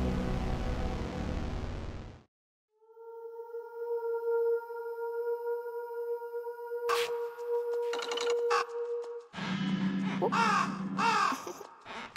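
Crows cawing in a video game: after a loud noisy burst and a brief silence, a steady tonal drone holds, then several harsh caws arrive in quick succession toward the end, loud and close, with no talk.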